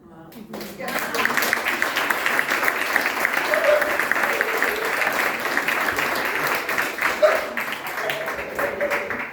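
Audience applause at a talk by American women soldiers, a dense sustained round of clapping from a room full of people that starts abruptly and stays steady, with voices faintly underneath.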